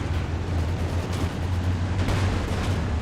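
Mortar and artillery fire from Company of Heroes 2 pounds around a mortar pit, a dense, continuous barrage of booming blasts and crackling impacts that holds steady at loud volume throughout.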